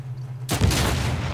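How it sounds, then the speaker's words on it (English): A grenade goes off in an Uncharted 4 Team Deathmatch in a village, one sudden loud blast after a quiet moment, followed by a rumbling decay. "Nice random grenade."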